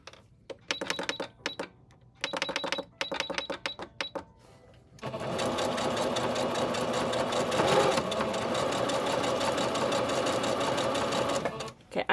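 Sewing machine running a regular stitch through lace and fabric, starting with several short rattling bursts and then settling into one long steady run, close and clear, with faint talk in the background.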